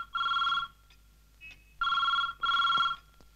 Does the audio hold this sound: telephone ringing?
yes